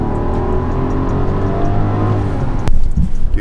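A Rolls-Royce Cullinan Black Badge engine pulls hard under acceleration, a deep rising drone heard from inside the cabin that swells louder near the end, with a sharp click midway.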